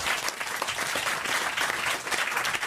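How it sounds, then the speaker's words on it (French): A studio audience applauds throughout, a dense, steady wash of clapping from many hands heard close and loud without pause, with no speech over it. "On vous applaudit quand même, Ludo."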